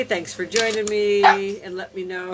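A dog barks and whines in the background of a home cooking livestream, its short yelps and a drawn-out whimper mixed in with a woman's speech.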